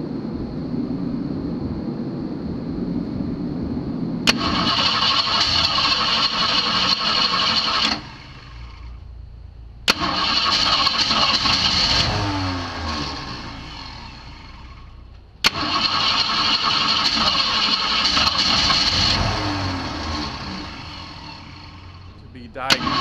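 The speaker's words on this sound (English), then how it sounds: "Diagnosing my starting problem on this 65 Mustang Fastback." A 1965 Ford Mustang Fastback with a starting problem cranks and catches three times in a row. Each start surges into loud revving lasting a few seconds, then cuts off abruptly into brief quiet before the next attempt.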